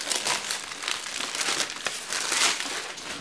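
Plastic shrink wrap being pulled off an Assassin's Creed collector's edition box, a continuous loud crinkling and crackling up close for a few seconds with no talking.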